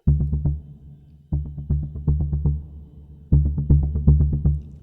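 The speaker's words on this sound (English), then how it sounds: "those first rhythmic beats are actually panning left and right" Rhythmic synth beats from a step sequencer panning left and right, short plucky pulses in quick repeating phrases with brief gaps between bursts, clear and forward, no voices.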